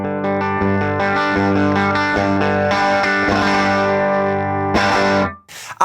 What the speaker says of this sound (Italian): A 5 watt la saturazione arriva prima, creando quella compressione vintage che piace tanto ai puristi